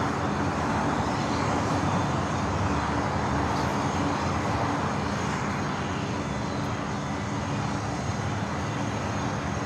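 A Lufthansa Boeing 747 taxies toward the terminal gates at Los Angeles airport, its engines giving a steady, moderate hum and whine with traffic-like rumble, continuous and unbroken.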